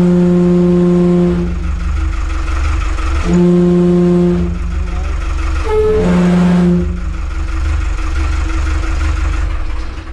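An old engine on an abandoned sailing yacht under restoration runs in gear with a loud, close, rough drone, while strong tonal horn-like blasts come and go over it in three separate bursts.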